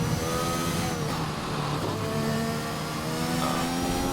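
A race car engine drones loud and sustained through a lap, with shifting pitch as it holds revs and accelerates, steady from start to finish with no talk on top.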